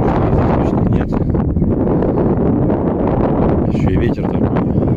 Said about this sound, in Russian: Ветер такой свирепый